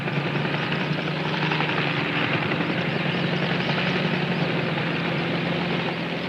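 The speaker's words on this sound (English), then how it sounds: "While the helicopter flies on to be refueled" A helicopter drones steadily, its rotor and engine throbbing at an even, loud level throughout with no talking.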